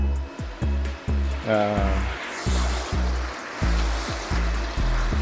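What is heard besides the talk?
aquarium aeration pump bubbling water in fish tank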